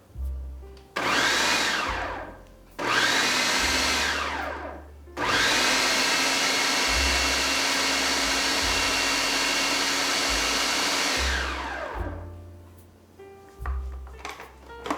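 A blender pulses tomato spaghetti sauce in three loud bursts of whirring that wind down between presses, followed by a few shorter, quieter pulses near the end.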